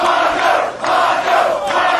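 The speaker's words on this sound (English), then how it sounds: "Listen to this crowd" Capacity wrestling crowd at a CZW Tournament of Death match, Nick Mondo versus Ian Rotten, roaring and chanting loudly in rising waves, near and dense.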